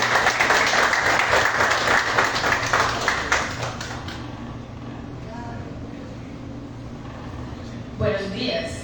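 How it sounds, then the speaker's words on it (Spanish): An audience at a creative writing reading applauds loudly with dense, sustained clapping that tapers off after a few seconds, leaving quieter room noise and brief movement. "Entonces, un fuerte aplauso."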